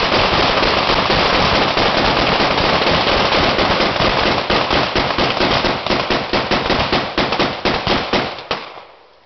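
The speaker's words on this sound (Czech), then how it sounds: "salva byla úplně bezvadná" A New Year gun salute from a shooting club outdoors, a loud dense volley of rapid overlapping gunshots crackling continuously for several seconds before thinning into a few last scattered shots and fading.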